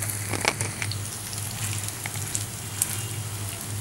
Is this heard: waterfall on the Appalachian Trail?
no